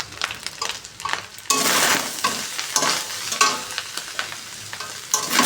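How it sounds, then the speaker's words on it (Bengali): Rice is stirred in a hot frying pan for a fried rice dish with salt, sugar and green chilli, a loud sizzle with repeated scraping strokes of a spoon against the metal. "এখন ভাতটা একদম নাড়াচাড়া করে নামিয়ে দিই"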